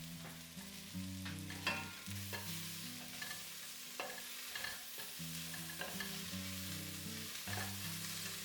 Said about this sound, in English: Then I add the carrots and broccoli and saute briefly.